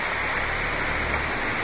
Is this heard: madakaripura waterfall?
yes